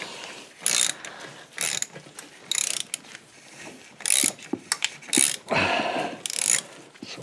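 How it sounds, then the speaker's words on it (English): A ratchet clicks in repeated bursts of quick pawl ratcheting, loosening a bolt on the valve cover of a 2005 Chevy Colorado, close and loud with brief pauses between strokes. "So we have to loosen this bolt."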